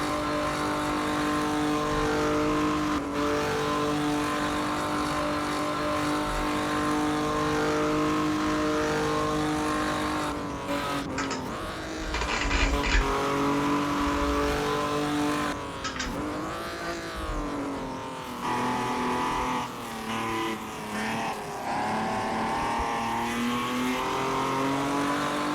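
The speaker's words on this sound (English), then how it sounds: "here's a little sound profile of the car from the outside. Right now I'm just ripping it," A 1979 Opala race car in a video game runs flat out at the Nordschleife, heard from outside with a loud continuous engine roar that shifts pitch through gear changes and revs, with no talk.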